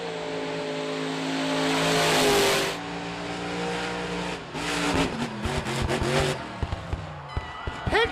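Bad Habit monster truck roaring down the strip at full throttle toward a world-record jump attempt, the loud engine rising and then surging in rapid revving bursts over a distant crowd.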